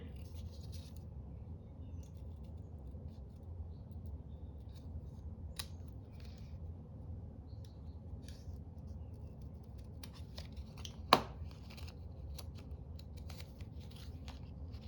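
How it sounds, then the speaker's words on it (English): Scissors trimming paper for a spring craft journal, quiet intermittent snips and faint paper rustles close by, with one sharper click near the end over a low steady background hum. "Now we need to do a little bit more trimming."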